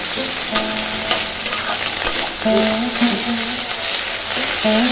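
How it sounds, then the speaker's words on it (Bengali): Rice with egg and onion stir-fried in a pan at home, a steady close sizzle broken by repeated scraping and stirring strokes of a spatula against the pan throughout. "পেঁয়াজ দিয়ে ডিম দিয়ে ভাত ভাজা করে দিলাম করছি দেখো"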